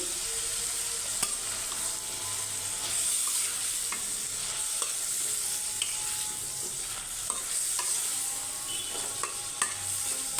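Fish and vegetables stir-fry in a pan with a steady sizzle, punctuated by small scraping clicks of a utensil, heard close and alone.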